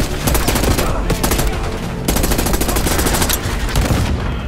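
Heavy automatic gunfire from Call of Duty Black Ops 6 campaign gameplay, loud sustained bursts of rapid shots with brief gaps, dense and continuous throughout.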